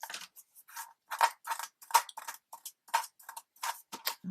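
Scissors snip through paper while a mini journal is being made, a quick series of crisp, close, fairly quiet cuts in an irregular rhythm, about a dozen in four seconds.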